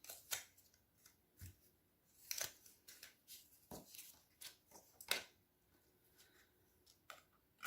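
Paper snipping with scissors while cutting glimmer paper for a handmade evergreen Christmas card, a series of short crisp cuts at an irregular pace, close and fairly quiet, with light paper rustling between snips.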